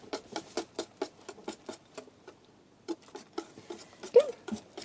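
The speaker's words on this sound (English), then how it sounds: "whisk a little bit more so there's no crumbs" Whisk beating chocolate pancake batter in a bowl, a quick run of light, regular taps and scrapes, a pause, then more uneven whisking strokes, fairly faint and close.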